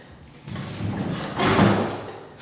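Doors in a renovated house being pushed open and sticking, a dull scraping rub followed by a louder thudding push, close by and short.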